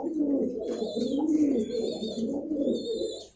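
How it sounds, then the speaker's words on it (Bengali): Giribaz pigeons cooing at a pigeon farm in Badda, Dhaka: steady, overlapping low throaty coos run throughout, close and moderately loud, with faint higher chirps above. "এটা হচ্ছে নর, এটার মাদিটা আবার অনেক ভালো ব্লাডের একটা কবুতর"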